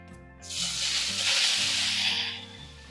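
Grated carrot hitting hot cow ghee in a pan for carrot halwa, bursting into a loud, close sizzle that swells, holds steady, then eases off slightly, over faint background music.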